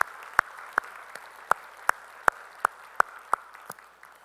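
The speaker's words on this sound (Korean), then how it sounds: "우리 찬양을 받으신 주님께 영광의 박수 올리겠습니다" Slow, evenly spaced single claps, about ten in steady rhythm, from a church congregation during a Sunday worship service in Korea, sharp and fairly close with no voices over them.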